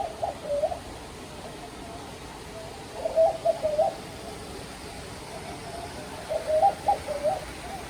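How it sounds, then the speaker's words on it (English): Pigeons of several kinds calling in an aviary at an Australian wildlife reserve, soft low cooing phrases coming in three brief bursts over a quiet background. "So quite a few different kinds of birds, lots of sort of different kinds of pigeons"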